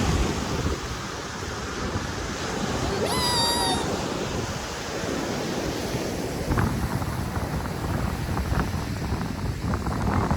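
Continuous roar of sea waves mixed with gusty wind buffeting the microphone, with a brief high meow-like cry partway through.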